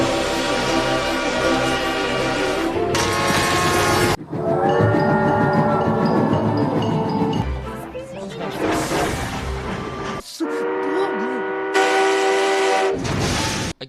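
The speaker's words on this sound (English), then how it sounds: "there are a lot of different whistles and horns on this very one" Cartoon steam-engine whistles and horns from the Equestrian Railroad in My Little Pony Friendship is Magic, several loud sustained tonal blasts in sequence with differing pitches, separated by brief gaps and rumbling train sounds.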